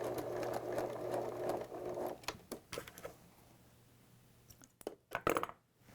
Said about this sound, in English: that line of machine stitching that I just did